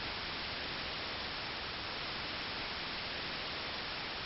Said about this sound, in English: You can only see white noise.